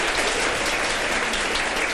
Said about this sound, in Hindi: आपकी तालियों के जोर से पता चलेगा कि कौन जीता